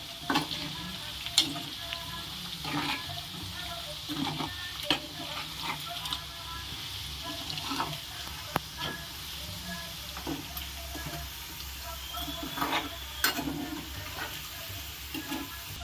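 Chicken pickle pieces tossed with salt in a pan, a continuous sizzling hiss broken by repeated scraping and clacking strokes of a spoon, close and fairly busy throughout.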